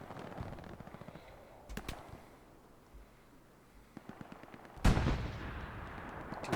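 MP40 submachine gun fire in a video game match, with bursts of rapid shots and a heavier loud blast near the end, set against game background noise.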